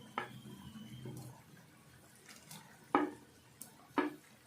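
Fried okra pieces tipped from a dish into simmering tamarind gravy in a pan, heard as a few quiet, sharp clinks of utensil on pan spaced seconds apart over a faint kitchen background.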